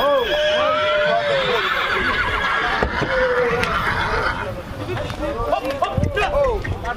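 At a horse show in Craiova in 2022, a horse gives loud, repeated neighs and whinnies with hooves clopping nearby, while people talk throughout.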